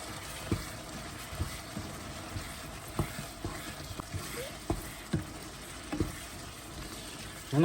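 Mutton frying in a pan hisses steadily while coriander and mutton masala are stirred in, a spoon knocking against the pan at a roughly regular pace, close and moderately loud.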